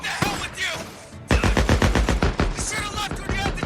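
Bursts of gunfire and bangs in the Days Gone video game, with a loud rapid train of sharp reports after a short lull, filling the last two seconds and more.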